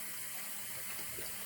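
Water runs from a tap for a wet shave, a steady, even hiss of flowing water, close and moderately quiet, with no voices.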